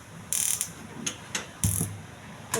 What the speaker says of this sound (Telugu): స్టవ్ వెలిగించి కుక్కర్ పెట్టుకోండి